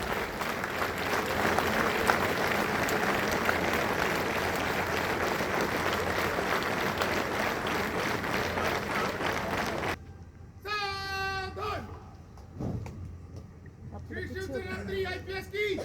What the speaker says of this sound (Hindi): जोरदार तालियों के साथ इस परिसर में स्वागत कीजिएगा